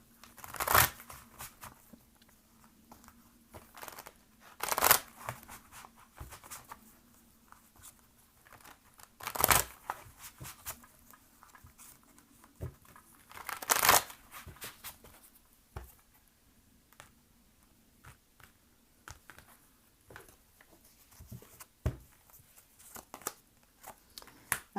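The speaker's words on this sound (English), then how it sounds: "Let me go ahead and shuffle some cards for the general reading." Tarot cards being shuffled and handled, with soft crinkling riffles and several sharper bursts spaced through a quiet room.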